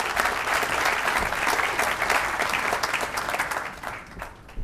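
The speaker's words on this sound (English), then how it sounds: "I'd like to hear a round of applause for that." Steady audience applause at a groundbreaking ceremony for a university wellness and events center, dense and sustained from a large crowd, fading slightly near the end.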